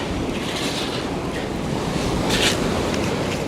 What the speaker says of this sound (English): before these waves try to get me again